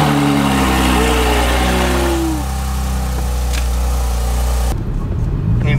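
A car engine runs steadily, swelling briefly as it is revved and then settling back to an idle before cutting off abruptly near the end. The sound is close and loud, with no voices.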